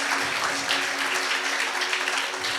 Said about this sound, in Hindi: एक दफा ताली बजा सकते हैं आप